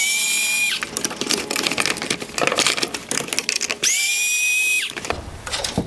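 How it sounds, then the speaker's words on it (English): A T20 driver removing screws from the AFS bracket of a 2017-2019 Porsche Panamera full LED headlight, with two bursts of a high whining motor between stretches of close clicking, rattling handling noises. "we're going to have to twist the unit slightly and use our T20 driver to remove them"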